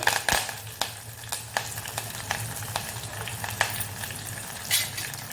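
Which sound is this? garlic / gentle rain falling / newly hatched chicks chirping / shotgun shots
garlic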